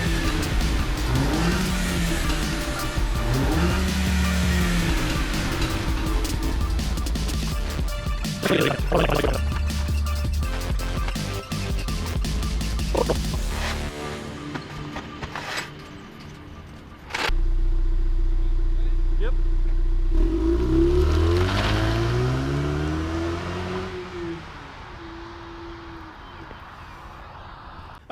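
A Ford Mustang EcoBoost with an upgraded exhaust revs close by, rising and falling engine sweeps repeated several times, with a brief spoken word and other voices around it.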